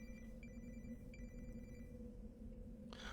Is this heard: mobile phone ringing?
yes